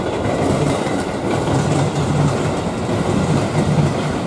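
A long-distance passenger train rumbles past nearby with a steady, dense roar and faint rhythmic clatter of wheels, continuous throughout without voices.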